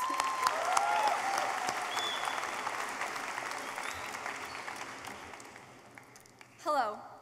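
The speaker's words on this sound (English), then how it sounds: "Let's give a round of applause." A crowd applauds steadily for several seconds, the clapping thinning out toward the end before a brief louder burst.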